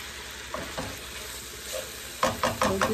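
Beans, potato, tomato and eggplant sizzle in a frying pan, a low steady crackle broken by several sharp bursts of stirring near the end.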